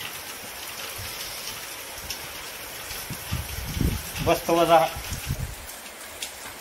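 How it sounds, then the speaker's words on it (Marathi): Steady rain falls outdoors in a continuous hiss, with a person talking and a few louder sounds partway through. "पाऊस तर येऊ द्या पाऊस महत्वाचा आहे ना"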